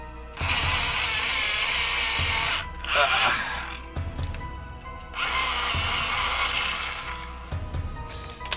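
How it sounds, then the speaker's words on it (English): A harsh, buzzing grind from a small motorized sharpener sharpening a colored pencil, running in several bursts separated by brief pauses, close and loud. "Somebody said there's a chainsaw, but it's sharpening."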